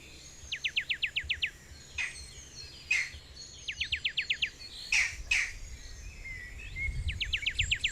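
Wild birds calling in a game reserve: rapid trilled bursts of chirps recur, with sharp squawks between them, outdoors against a faint insect background.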